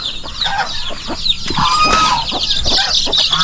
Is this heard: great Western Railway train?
no